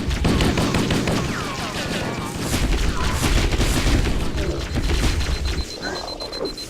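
Gunfire during a Flood battle in the video game Halo: Combat Evolved, with dense, continuous shooting and explosive bursts across the whole clip, loud and busy, with game voices and effects mixed in.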